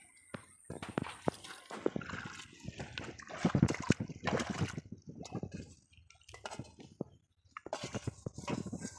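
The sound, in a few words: water being bailed out of a small hole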